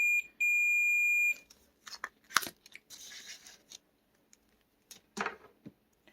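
A multimeter on continuity test sounds two high, steady beeps, a short one and then a longer one of about a second, while checking a water-damaged Nintendo DSi. Faint clicks and handling noises follow in a quiet room.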